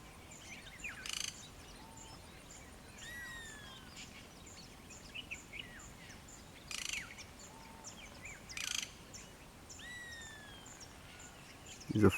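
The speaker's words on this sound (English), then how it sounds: "There's a grey-headed bushrack also calling," A grey-headed bushshrike calls among other birds in a morning chorus, its clear whistled notes repeating every few seconds at moderate distance over chirps and a soft insect hum.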